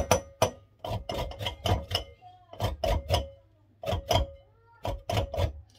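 Lemon zest grated by hand over the coarse side of a box grater, heard as repeated rasping strokes in quick, uneven bursts at close range with short pauses between groups, with no one talking.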